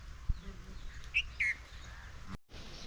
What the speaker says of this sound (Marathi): इकडे बुलबुल पक्षी आहे काय